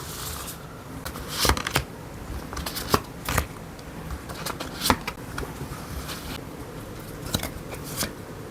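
Tarot cards are shuffled by hand in quick, papery riffling bursts and soft slaps at close range, repeating irregularly over several seconds with no speech.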